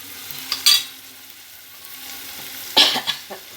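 Tomatoes cooking in a pan for a drumstick and brinjal curry, stirred with a spoon: a quiet low sizzle broken by two sharp scraping bursts near the start and later.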